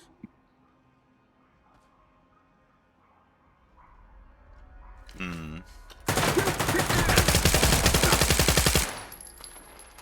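Enemy gunfire in the shooter game Stalker 2: a sustained, loud rapid-fire burst of automatic shots rattles for several seconds after a brief sharp sound, then cuts off.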